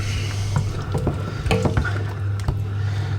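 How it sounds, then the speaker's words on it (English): Spinach being stirred into a lamb curry in a pan, soft scraping and squishing strokes over a low steady hum, close and moderately loud. "in goes all your spinach. Give it a good old stir"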